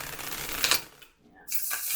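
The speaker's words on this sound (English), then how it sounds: "this is where all the cards start getting tough to shuffle" Tarot cards being shuffled up close, a papery rustling burst that pauses briefly before the riffling starts again.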